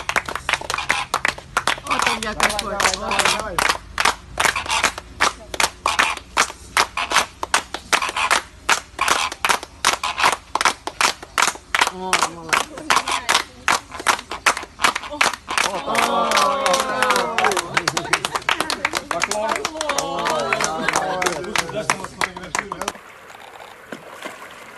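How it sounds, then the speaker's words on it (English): Sharp hand claps repeat quickly and steadily at a flock of flamingos, which answer with a dense, rising chorus of honking calls before the sound cuts off. "Here's what happens when you clap at a flamingo."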